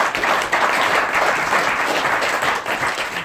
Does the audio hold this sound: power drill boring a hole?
no